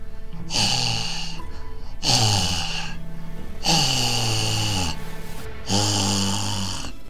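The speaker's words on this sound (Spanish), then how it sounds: "Unos jadeos asquerosos que se escuchaban en el umbral de mi habitación." Heavy, rasping breaths repeat in a slow, steady rhythm, four long drawn-out pants that sound close and harsh, almost like snoring.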